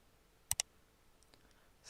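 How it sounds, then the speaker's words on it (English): Two quick computer mouse clicks, close and crisp, in near silence, followed by a few fainter ticks. "And now I will click on New Layer."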